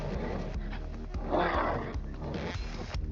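An agitated dog in the video game Wolfenstein The New Colossus gives a few growling, barking bursts, with one stronger cry in the middle over a low background.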